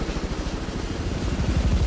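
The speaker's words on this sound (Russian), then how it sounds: "Вау, я на вертолете полечу." A helicopter in the video game Hitman 3 makes a loud, close, continuous rotor thrum with a rapid, steady chopping pulse that grows slightly heavier toward the end.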